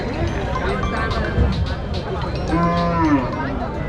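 Cattle low repeatedly at a crowded livestock market where rows of cows and bulls are tied up for sale, the long moos rising over constant background chatter and crowd noise.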